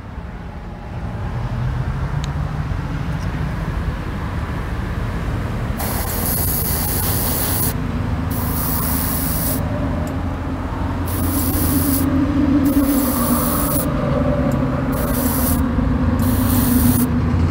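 Short hissing bursts from an aerosol can spray-painting a model car fender, about seven quick sprays in an uneven rhythm, following several seconds of low background rumble.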